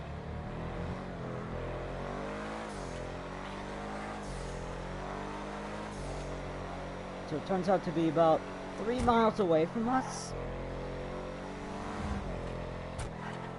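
A Night Shark car in a video game drives with a steady engine hum, a few revs and sharp squeals or impacts midway, under someone talking throughout.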